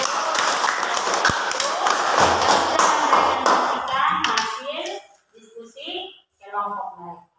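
A group in a classroom claps for a presentation, a dense burst of handclaps lasting several seconds and then breaking off, followed by a voice talking.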